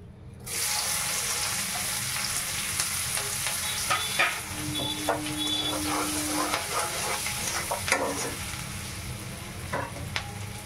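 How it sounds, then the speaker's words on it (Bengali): Chopped onion tipped into hot oil for an egg curry, giving a loud, steady sizzle throughout with occasional clinks and scrapes of stirring; no talk. "এই তেলটার মধ্যে এই যে পেঁয়াজটা কুচিয়ে রেখেছিলাম, পেঁয়াজটা দিয়ে দিচ্ছি"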